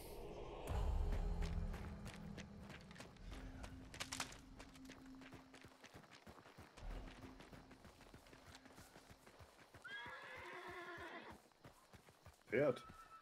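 A horse in a VR game neighs with a quavering whinny and a second short call near the end, after scattered hoof clip-clops and thumps, with voices talking over parts of it.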